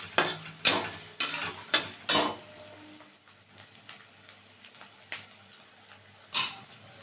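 Sliced onion and slit green chillies fry in a pan with a steady low sizzle, broken by several sharp scraping stirs close by in the first seconds and a few more later.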